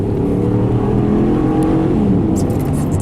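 A Ram 1500 pickup's 5.7-litre V8 revs hard and climbs in pitch as the truck accelerates, with a deep continuous roar throughout.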